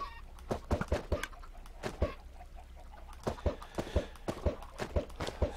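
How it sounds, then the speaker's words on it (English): Chickens in the Minecraft video game, with scattered soft clucks among brisk clip-clop and footstep-like clicks, fairly quiet and irregular, with no talk. "I think we should be okay to start putting chickens in there"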